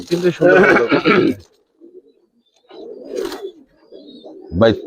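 Giribaz and coloring pigeons cooing, soft low coos in short bursts after someone speaks briefly, fairly close and quiet.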